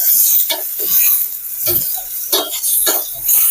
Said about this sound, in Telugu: ఈ రొయ్యలు ఒక 3-4 నిమిషాలు ఫ్రై చేసుకోవాలి ఈ ఆయిల్లో.